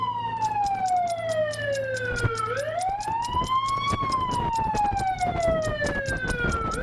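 A fire engine siren wails close by, its pitch sweeping up and down with loud, steady persistence over idling traffic, while someone speaks briefly over it.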